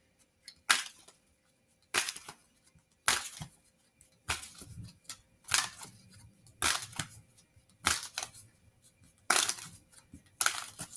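Repeated crisp riffling bursts of tarot cards being shuffled, about once a second in a steady rhythm, close up with quiet gaps between.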